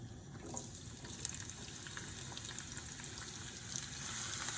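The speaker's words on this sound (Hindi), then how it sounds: "अब मैं ऐड कर रही हूँ ये प्याज।" Chopped onion frying in oil with black and green cardamom for chicken nihari gives a steady, dense sizzle and crackle that runs close and even throughout, with no voices.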